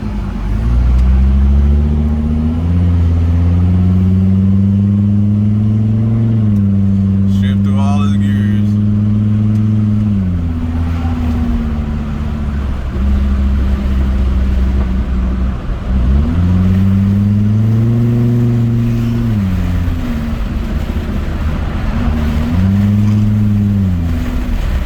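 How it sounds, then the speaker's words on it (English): A repaired Volvo car driving down a street on a test drive, its engine droning loud and steady with rising and falling pitch as it shifts through the gears, close to the cabin and continuous throughout. "Then we take it for a test spin down the street."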